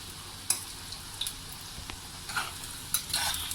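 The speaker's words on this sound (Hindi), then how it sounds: "डाल के इनको फ्राई करना है ताकि अच्छी तरह से सारा चिकन फ्राई हो जाए।" Boneless chicken pieces fry in oil for Chicken Manchurian with a soft, quiet sizzle, broken by a few faint clinks and stirring taps near the pan.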